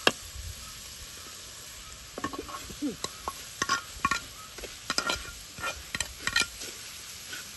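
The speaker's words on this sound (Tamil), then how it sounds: "இப்போ இந்த வெங்காயத்தோடு நல்லா மிக்ஸ் பண்ணிடலாம்" A spoon stirs fried onions into masi sambal in a pan, with a soft sizzle of frying under a series of close scraping strokes that start faint and grow more frequent.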